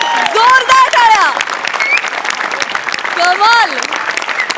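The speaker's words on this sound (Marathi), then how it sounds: "जोरदार टाळ्या." Audience applause at a Marathi TV comedy show, a burst of clapping that swells twice, with loud excited voices riding over it.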